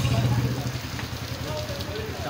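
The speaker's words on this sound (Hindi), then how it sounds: "बारिश हो रही है" Rain falls outdoors in a steady, dense patter with a low voice murmuring underneath at the start.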